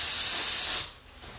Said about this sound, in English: I've got it thinner, spray through this and through the stone chip gun as well.